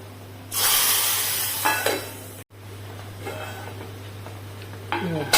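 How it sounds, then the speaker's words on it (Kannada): Mustard seeds, crushed garlic, chilli and asafoetida tempering in hot oil for a Mangalore-style cucumber curry, with a loud burst of sizzling that fades, a brief cut, then more sizzle and metal clinks over a low steady hum. "ಇದನ್ನೀಗ ಒಗ್ಗರಣೆ ಮಾಡಿಕೊಳ್ಳ."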